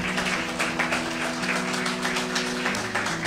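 Church congregation applauding in praise together, a dense steady wash of many hands clapping at close range with a sustained organ or keyboard chord beneath.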